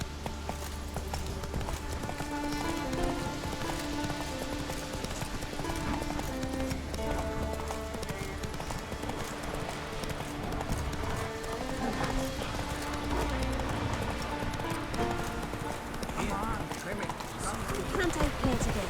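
Roach the horse gallops in The Witcher 3, hooves clip-clopping in a steady rhythm throughout, with game music and voices of characters talking over the hoofbeats.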